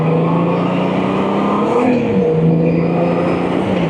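Honda Goldwing Tour GL1800 motorcycle engine revving hard toward its roughly 6,000 rpm redline on a test ride, a loud continuous drone rising in pitch, briefly easing, then climbing again close to the microphone.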